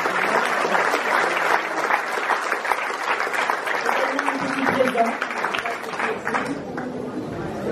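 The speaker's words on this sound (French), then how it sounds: "Je voulais quand même qu'on les applaudisse très fort" A festival crowd at the St Etienne de Tinée fête applauds loudly and steadily for performers, dense clapping filling the whole stretch with some cheering and voices mixed in.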